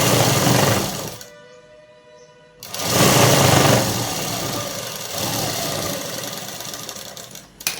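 A sewing machine stitching the hem of a pair of pants runs in close, loud whirring bursts, stopping for a brief pause before starting again and running steadily to the end.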